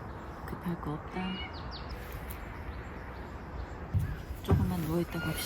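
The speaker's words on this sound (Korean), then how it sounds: "여긴 새소리가 참 좋다." Birds chirp and sing around a campsite, scattered short calls over a soft outdoor background, with a louder burst of song near the end.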